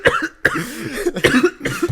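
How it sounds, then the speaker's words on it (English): A person coughs in a room, in three or four harsh, close bursts separated by short gaps. "I made you cough, dude."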